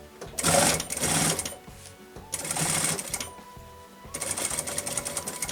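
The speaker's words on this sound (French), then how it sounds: "je vais venir coudre droit jusqu'à mon autre biais" A sewing machine runs in three bursts, stitching a straight seam on a fabric e-reader case, with short pauses between runs, fairly close and clear with no talking.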